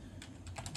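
Quick keystrokes on a computer keyboard entering a fastboot flash command while installing LineageOS on an Essential Phone, several soft clicks in fast succession over a faint steady background hum, with no talking.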